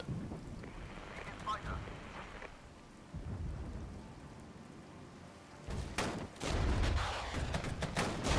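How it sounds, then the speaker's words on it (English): Artillery barrage in the tank-warfare strategy game Regiments, heard as rumbling, thunder-like blasts: a steady low roar for the first seconds, then louder, heavier impacts building toward the end. "I'll drop artillery on these guys just to make sure of it"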